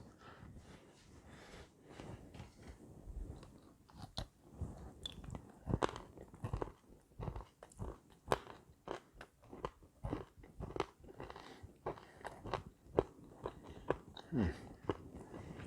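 Close, crunchy chewing of keto no-bake cookies made with white chocolate, with steady bites and mastication crackling irregularly for about fifteen seconds, with no talking.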